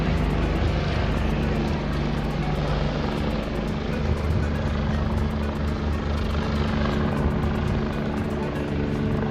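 Helicopters hover and circle above the start of a Tour de France stage in Chauvigny, a continuous throbbing rotor drone with rapid blade chop, steady and fairly loud throughout with no voices.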